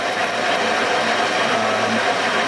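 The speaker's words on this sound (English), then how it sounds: "this one here is soft enough that we can use a high-speed tool" A high-speed rotary tool grinds steadily into a broken intake manifold bolt on a Ford 302 engine, producing a loud, continuous, close-up whine with no pauses and no voices.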